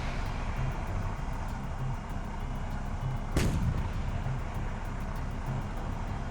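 A WW2 tank's cannon fires once in a tank video game, a single loud, sharp blast with a low booming tail, set against a steady engine-like rumble and faint periodic ticking.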